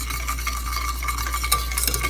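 Custard stirred in a pan over low heat, soft repeated scraping strokes with a faint sizzle beneath, close up over a steady low hum, no voices.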